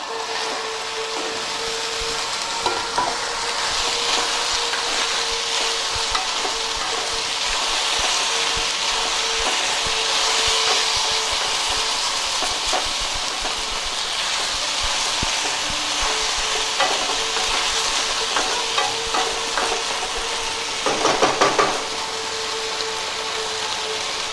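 Potato fry stirred in a pan on a home stove, with a steady, moderately loud sizzle running throughout, occasional stirring scrapes and a brief louder burst near the end.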